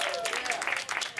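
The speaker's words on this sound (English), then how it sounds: "Round of applause once again." A conference audience claps in a brief, dense burst of applause close by, with a voice talking over it.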